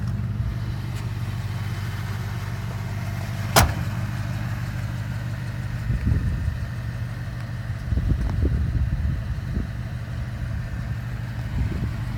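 A 1978 Mercury Cougar XR7 idles through Flowmaster exhausts, giving a steady low rumble close by, with a sharp click partway through and some faint handling noises later.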